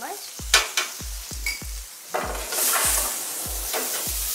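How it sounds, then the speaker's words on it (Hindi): Chopped onions fry in a pan with a steady loud sizzle, punctuated by repeated rhythmic knocks of a spoon stirring against the pan, close up and with no talk. "इसे भूरा होने तक, लाइट ब्राउन होने तक इसे भून लेना है।"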